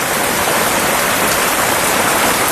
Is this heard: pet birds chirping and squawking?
no